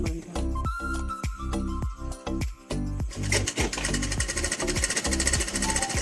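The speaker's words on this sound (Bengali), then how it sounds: "এবার আমি এই সাইডগুলো সেলাই করে নেব, এই 2 সাইড" Sewing machine stitching the side seams of a cotton baby frock, its motor whirring in short bursts and then a longer steady run, loud and close with no talking.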